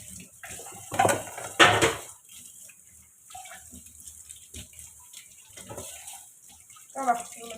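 Dishes being scrubbed and rinsed at a kitchen sink with tap water running, pots and utensils clattering in a few louder bursts early on, then softer intermittent washing sounds close by.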